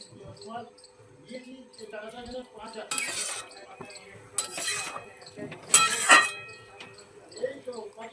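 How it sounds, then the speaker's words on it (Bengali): Spinach being stirred into mixed vegetables in a cooking pan for a light Bengali spinach curry, with soft scraping and a few sharp metallic clinks of a spoon against the pan under quiet background sound. "এবারে শাকটা মিশিয়ে নেব"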